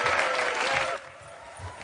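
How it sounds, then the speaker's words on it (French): A short wash of audience applause for a young acrobatic dancer at a show, steady clapping that cuts off abruptly midway, leaving quieter room noise. "On peut l'applaudir bien fort."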